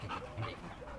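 A Belgian Tervuren dog gives a short, close bark, a quick burst over steady background noise with no talk.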